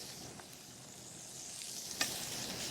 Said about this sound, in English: Get your pan nice and hot. You want to get that Maillard effect when you get in there and hear that sizzle.